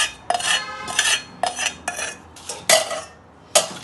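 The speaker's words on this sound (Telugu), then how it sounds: "ఇప్పుడు బాగా కలిపేసుకోవాలి" A spoon scrapes and clinks in short, separate strokes against a bowl while mango pickle is mixed with cooled tempering oil of cumin, mustard seeds, garlic and dried red chillies. The strokes are close and loud, with no talking.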